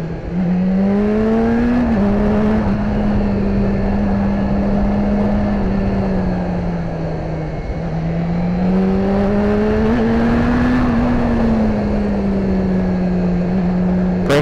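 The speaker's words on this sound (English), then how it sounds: "A lot of off-throttle deceleration at revs." BMW S1000RR sport motorcycle engine at high revs on a backroad, a loud steady drone from onboard that sags and rises as the rider rolls off the throttle, with wind rush underneath.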